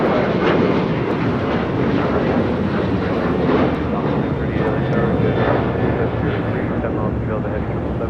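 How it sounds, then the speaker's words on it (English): Boeing 737-900ER rolling for takeoff on runway 25 right at LAX, a loud continuous engine roar with broad rumbling noise holding steady throughout. "A 737-900 ER now rolling down to 25 right."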